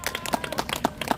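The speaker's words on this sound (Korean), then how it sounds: "자, 박수 한번 주세요." An audience at a political rally in Korea claps in a short burst of scattered applause.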